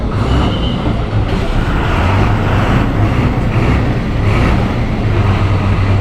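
An MSRTC bus at Chiplun's central bus station on a cold, dewy evening gives a loud, continuous engine rumble with broad road and station noise throughout and no clear voices.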